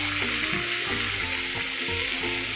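Tomatoes sizzle steadily in a hot pan for a mutter paneer gravy, a dense continuous frying hiss with light stirring, close and alone.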